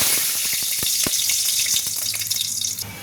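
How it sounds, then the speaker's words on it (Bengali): Bay leaves sizzle in hot oil in a karai, a dense steady hiss with scattered crackles and pops close by. "আচ্ছা, কড়ার মধ্যে আমি তেজপাতা দিয়ে দিলাম"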